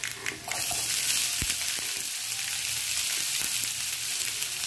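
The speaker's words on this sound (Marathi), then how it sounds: "कांदा भरपूर असा बारीक कट करून घेतलेला आहे, आता तो घालायचा लगेच।" Finely chopped onion hitting hot oil, bursting into a loud, dense sizzle that holds steady, with a couple of faint knocks of a utensil underneath.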